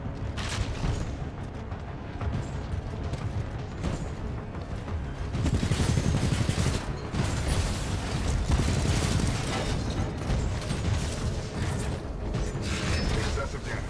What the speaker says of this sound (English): It's like the discharge on the Cyclone in Perfect Dark. Constant stream of bullets.